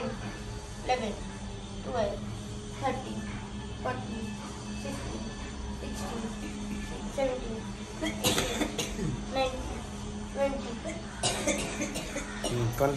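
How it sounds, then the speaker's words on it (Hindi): A 90-year-old woman coughs repeatedly during a home yoga session, with harsh, close bursts spread through the stretch while other people talk and count in the background. "खांसी आ रही है अम्मा को।"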